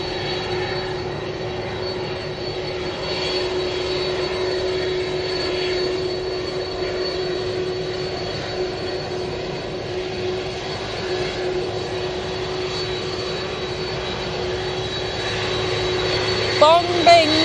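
Jet engines of a Hainan Airlines Airbus A330 run with a steady droning hum and a sustained whine, a constant loud roar that persists throughout with little change.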